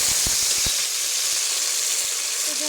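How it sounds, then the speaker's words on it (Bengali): Tilapia fish fry in hot oil in a kadai, giving a bright, continuous sizzling hiss, with a few soft low knocks near the start. "তেল গরম হয়ে গেছে, এখন আমি মাছগুলো দিয়ে দেব।"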